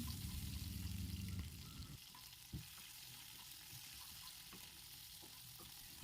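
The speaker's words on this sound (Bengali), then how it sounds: "পেঁয়াজ হালকা ভাজা হয়ে এলে এতে টমেটো দিতে হবে" Onions and tomatoes fry in a pan for a cauliflower and potato curry: a steady bubbling sizzle that settles slightly after a couple of seconds, with a single utensil knock and light stirring scrapes.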